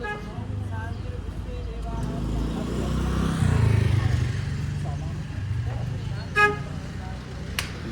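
At a bike puja, a vehicle's engine rumble swells in the middle, then a single short horn toot sounds near the end, with people talking over the scene.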